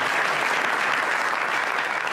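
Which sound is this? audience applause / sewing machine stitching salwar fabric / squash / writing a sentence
audience applause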